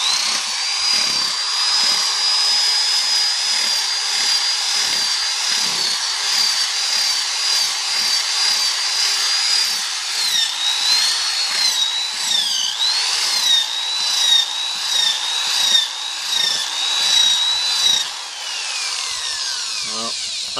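A Denker rotary carver runs in reverse across a knot in wood, giving a loud, steady high-pitched whine with a continuous grinding rasp that holds for about twenty seconds and drops slightly in level near the end.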